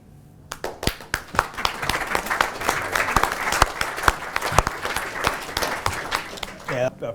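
Conference audience applauding after a talk on food waste and net zero, a dense burst of many hands clapping with sharp individual claps poking through, steady for several seconds before fading at the end.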